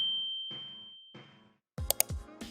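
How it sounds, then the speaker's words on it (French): A notification bell rings out a bright, sustained ding that slowly decays, followed by a couple of softer chime-like tones, then a burst of clattering, clicking percussive sounds near the end. "activer la cloche de notification pour recevoir nos nouvelles vidéos"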